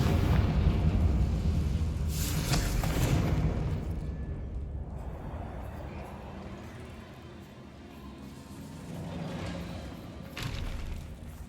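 A Confringo fire spell in Hogwarts Legacy bursts with a heavy booming blast that rumbles and fades, followed by softer impacts and a further thump.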